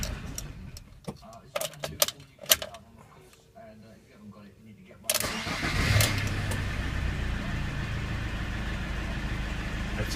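Fiat Ducato diesel van, its poor starting resolved after a return leak-back test, cranks briefly and fires up sharply, then settles into a steady close diesel idle after a stretch of clicks and knocks.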